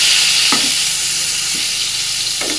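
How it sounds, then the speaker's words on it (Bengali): Eggplant slices fry in oil in a nonstick pan with a loud, steady sizzle, and a few scraping stirs of a spatula come through clearly. "এবার একটু লাল লাল করে বেগুনগুলোকে ভেজে নেবো"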